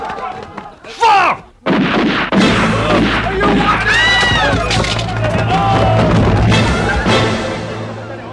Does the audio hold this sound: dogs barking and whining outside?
no